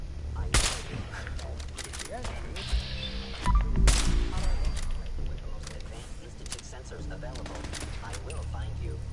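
Turret gunfire in Fallout 4: bursts of sharp automatic shots and impacts, loud cracks clustered early then a steadier rattle, with someone talking over the fighting.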